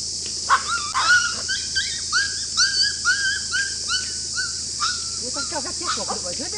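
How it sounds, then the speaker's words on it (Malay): Several small dogs beside a rubbish bin at Teluk Yu beach, Langkawi, yelp and whimper in short, high bursts, some overlapping, over a constant hiss, with a few quick squeaky cries near the end. "Anjing kecil-kecil comel."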